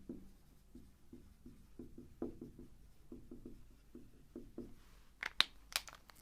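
A marker writes on a board for a math lesson, making a run of short, quiet squeaky strokes in an uneven rhythm, close by, with a few sharper rustles near the end and no voice.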